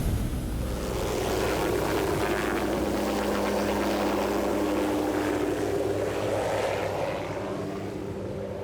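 Helicopter in flight during an aerial wallaby hunt, a loud, steady rotor and engine roar that fills the whole stretch close up, without any talk.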